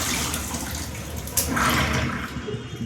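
Cold tap water runs and splashes steadily over boiled corn in a strainer, with a slight surge partway through.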